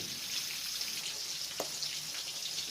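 Tomato and ground shallots with fenugreek sautéing in sesame oil for a fish curry, a faint, even sizzle with a brief soft clink partway through and no talking.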